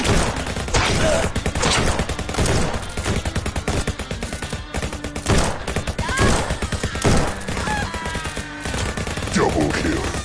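Rapid gunfire in the VR shooter game Guns'N'Stories: Bulletproof, with bursts of loud shots and machine-gun-like volleys repeating throughout, dense and close, with game effects mixed in.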